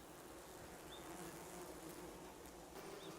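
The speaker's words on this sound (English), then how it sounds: "wild Japanese honeybees are on the move" Swarm of wild Japanese honeybees, a faint, continuous buzzing hum with occasional individual bees droning past close by.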